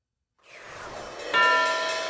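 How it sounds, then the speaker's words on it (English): Closing bell at the New York Stock Exchange: a bright, sustained metallic ringing comes in partway through and holds steady above a broad, rising background din, with no speech. "It's the closing bell on the New York Stock Exchange."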